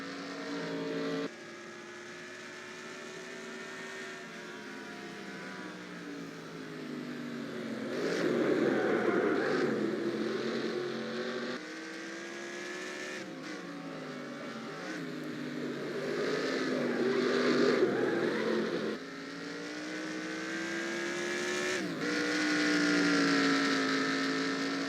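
A NASCAR Racing 2003 game car engine drones and revs continuously at Watkins Glen road course, pitch rising and dropping as the car slides, brakes and accelerates through corners, with no talking.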